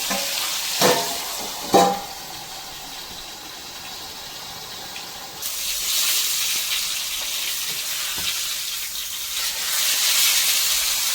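Pakoo fish coated in masala fries in hot oil, sizzling steadily with a couple of sharp knocks early on, then the hiss grows louder and brighter as more pieces go into the pan.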